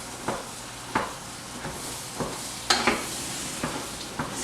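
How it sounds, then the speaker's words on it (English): A spoon stirring a sticky marshmallow and rice crispy mixture in a pot, with soft rhythmic scrapes and squelches about every half second, close up over a faint steady hum. "Just keep stirring it till it gets a nice gooey mess."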